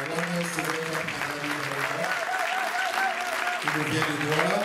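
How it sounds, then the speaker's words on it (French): Congregation applause welcoming a guest at an ordination ceremony, steady clapping from a crowd, with voices and cheering mixed in. "Je voulais qu'on salue, qu'on accueille notre papa Mbok avec les acclamations"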